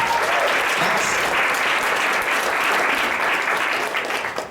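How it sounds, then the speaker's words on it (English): Sustained applause from an audience at a business presentation, a dense steady clatter of many hands clapping that holds for several seconds before starting to fade. "can we give him a round of applause, please?"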